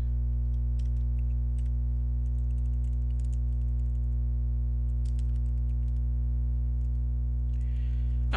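Keys on a computer keyboard tapped in scattered, light clicks while a check memo is typed, all sitting faintly under a loud, steady electrical hum.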